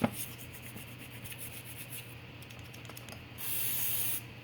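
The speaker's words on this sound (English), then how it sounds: "A little brake clean in there." Brake cleaner hisses from an aerosol can into a generator carburetor, a short steady spray burst near the end after faint scraping and tapping, close and moderately quiet.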